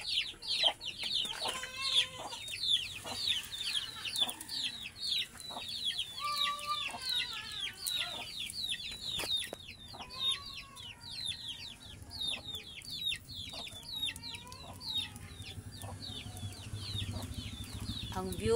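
A flock of chickens clucks and cackles continuously nearby, busy overlapping calls with occasional louder squawks.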